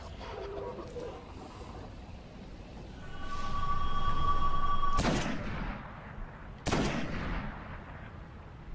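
Sniper rifle fire in the shooter video game Destiny: two sharp, loud cracks a couple of seconds apart, over a low rumbling game soundscape with whining tones, and no talk.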